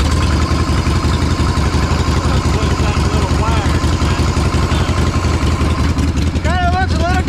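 A Harley-Davidson Shovelhead motorcycle engine runs loud and close with a steady, rapid thumping idle throughout, while voices can be heard over it.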